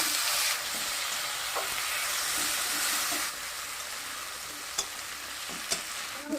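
Potatoes dropped into a pan of hot oil with cumin and onion, a steady loud hiss of frying close by that eases slightly partway, with a few faint clicks of a utensil.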